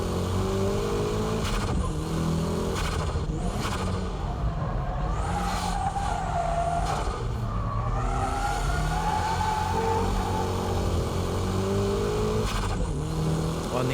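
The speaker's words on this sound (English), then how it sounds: "And from here, it's power drifting." A car engine revs hard and falls back again and again while power drifting uphill, with tires squealing through the slides. The loud engine fills the whole stretch close by, and a voice speaks briefly underneath.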